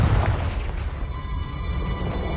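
A Confringo explosion spell in the game Hogwarts Legacy bursts with a deep boom at the start, then rumbles and fades over a couple of seconds.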